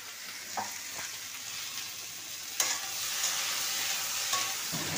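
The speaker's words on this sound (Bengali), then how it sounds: "তো সয়াবিন আলুটা এখানে ভাজেছি আর ওখানে আলুটা ভাজছি।" Soybean chunks and potatoes fry in a pan with a steady, moderately loud sizzling hiss, punctuated by a few sharp scrapes and clicks of stirring, close up with no voices.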